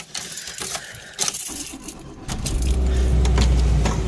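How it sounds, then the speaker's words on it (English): A Hyundai Excel with a 1.5-litre four-cylinder engine starts up after keys jangle in the ignition, then settles into a steady, close idle hum with the air conditioning running. "Listen to that engine."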